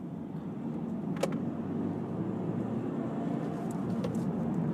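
Steady engine noise builds as a 2017 Hyundai i30 diesel hatchback accelerates at full throttle from about 30 km/h, a continuous low drone heard from inside the cabin with a faint click.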